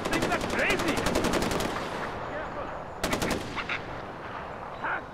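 Rapid automatic gunfire hits a charging honey badger in Far Cry 4, two long rattling bursts with a short pause between, loud and close, while a voice shouts faintly in the background.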